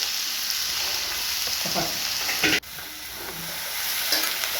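A crushed raw cashew mixture sizzles in coconut oil in a pan as it is stirred, with a few scraping strokes and a brief clatter midway over a steady frying hiss.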